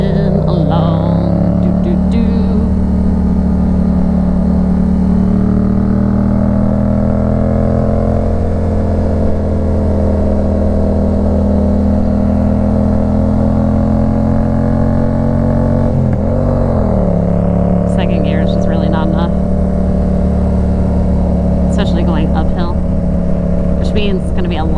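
A BMW GS-07 motorcycle engine drones steadily on the climb up Pike's Peak, a loud, continuous low hum with slight pitch shifts and wind noise throughout.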